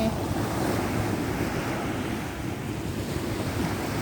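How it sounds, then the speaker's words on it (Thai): Strong wind blows at the seashore where people search for shellfish, a dense constant roar of wind buffeting the microphone mixed with surf, loud and unbroken with no speech. "ลมคักลมเน"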